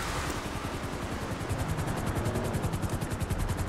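Helicopter in GTA V, rapid rhythmic rotor thumping that grows stronger partway through, close and continuous against a dense engine whine.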